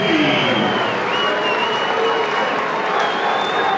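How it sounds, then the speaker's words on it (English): At a 2006 New Jersey all-star high school wrestling match, a large crowd keeps up sustained applause and cheering, with whistles cutting through near the end, while a commentator talks over it. "Well, we hear the crowd, Vogue."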